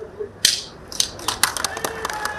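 A sharp single clap rings out at a film launch in Amaravati as the first clap is struck for a new Balakrishna film, followed by a scatter of clicking camera shutters and light taps over low background murmur.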